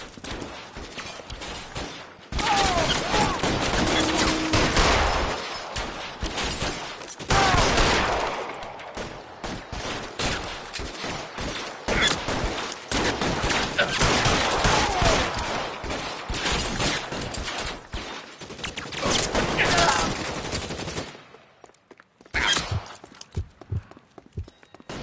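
Dense gunfire in the video game L.A. Noire, with rapid overlapping shots and bursts sounding near and loud for about twenty seconds, then thinning to a few scattered shots.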